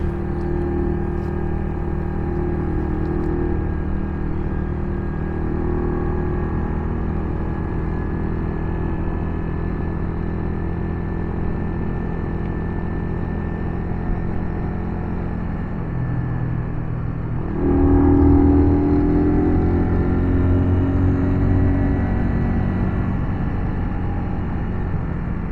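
A Kawasaki Z200 motorcycle being ridden gives a steady low engine rumble with wind noise. The tone holds constant for a long stretch, then swells louder and shifts briefly as the bike changes speed.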